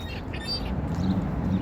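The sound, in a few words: ducks at Norwich Harbor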